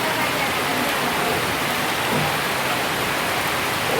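Heavy rain from Storm Franklin pours down in a steady, dense hiss, loud and unbroken throughout, with no talking.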